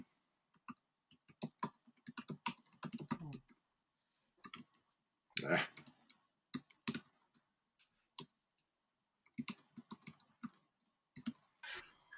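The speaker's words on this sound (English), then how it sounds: "So I'm just going to type for about a minute." Computer keyboard typing in bursts of quick clicking keystrokes, with short pauses between runs, close and fairly quiet with no talking.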